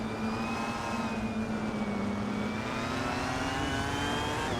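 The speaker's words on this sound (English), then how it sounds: "Abeta Bloke is driving a 2018 BMW M220" A 2018 BMW M220i race car engine in a racing video game drones steadily at high revs, its pitch creeping upward as it accelerates, loud and continuous with no voices.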